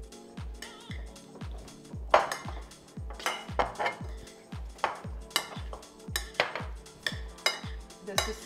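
Cold vegetable and bean salad with lemon zest is mixed in a bowl, a regular run of clinks and soft knocks from a utensil against the bowl, about two per second, close and fairly quiet.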